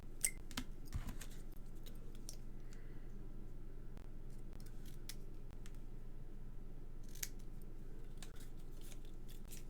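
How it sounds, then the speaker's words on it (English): Scissors snipping through paper in a few quick, sharp cuts, close and fairly quiet against a low background hum, with gaps between snips. "Get my scissors."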